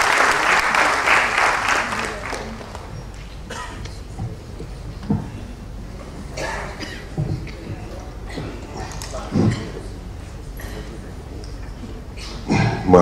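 An audience at a 2005 awards ceremony claps loudly for a birthday greeting. The dense burst of applause fades after about two seconds, leaving scattered claps and shuffling under a speaking voice.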